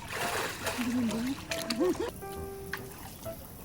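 People swim and splash in a pool at a glamping resort in Ubud, with water slapping and trickling close by while voices talk and call out over it.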